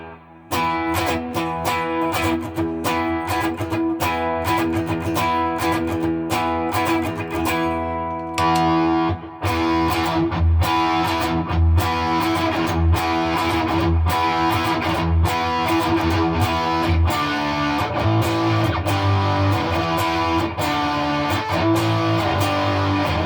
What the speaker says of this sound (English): It's more like a tone bendery kind of distortion-y fuzz thing. Very retro.